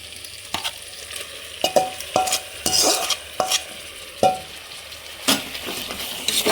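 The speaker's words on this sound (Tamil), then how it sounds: "போட்டு நல்லா கிண்டி வச்சுக்கலாம்." Chicken being stirred in a pot while cooking biryani: a spoon scrapes and clanks against the pot at irregular intervals over a steady sizzle of frying, up close and loud.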